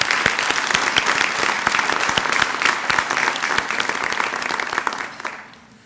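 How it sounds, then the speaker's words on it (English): A graduation ceremony audience claps together in dense, loud applause that holds steady for several seconds, then fades away near the end. "Let's give the graduates a round of applause."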